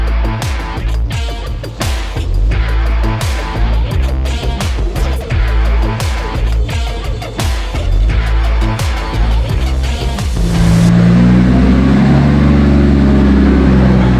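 A drift car engine prepared for D1 Grand Prix runs loud and close, a rough pulsing idle with shifting revs that settles into a steadier deep drone near the end.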